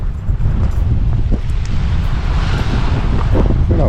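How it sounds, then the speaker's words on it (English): Cold wind along a driftwood-strewn shore near Skagway, Alaska buffets a camera microphone with steady, loud low rumbling that fills the whole stretch. "that's a cold wind. You can probably hear it in the camera"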